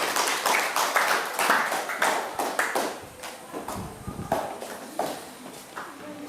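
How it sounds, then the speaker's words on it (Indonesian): Audience clapping at a school guidance-counselling presentation, a dense patter of many hands that starts loud and gradually thins and fades over several seconds, with no voices over it. "tepuk tangan dulu"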